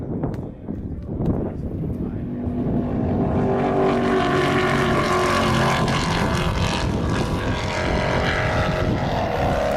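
Drag race launch from a dig against a Dodge Challenger Hellcat: a few scattered knocks, then a loud broadband engine roar swells in around two seconds and holds, close and sustained.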